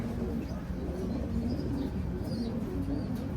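Racing pigeons returning to a loft during a derby race give soft, low, repeated coos, fairly close and steady over a faint background hum.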